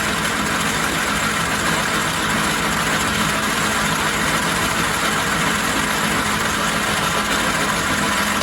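A Logan 210 metal lathe takes a ten-thou cut at 360 RPM. It gives a loud, steady, close mechanical whir and hum that stays even throughout, with no talking.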